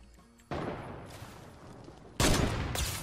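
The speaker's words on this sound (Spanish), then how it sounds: "Estoy disparando yo." Gunfire in the Fortnite video game: after a quiet start, a sudden sustained burst of rapid close shots, then a louder, heavier volley cutting in, firing continuously to the end.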